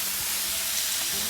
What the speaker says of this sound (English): I'm just gonna let it sear for a little bit more